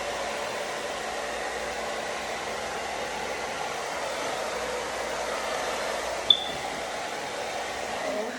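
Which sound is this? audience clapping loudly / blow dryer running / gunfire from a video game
blow dryer running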